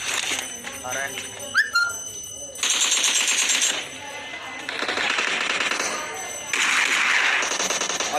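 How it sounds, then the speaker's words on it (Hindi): Gunfire in the mobile battle royale game BGMI (Battlegrounds Mobile India), heard as rapid automatic bursts and shots in several loud stretches, mixed with game sound effects and a voice talking over it. "वहां से कुछ गन साउंड आ रहे हैं"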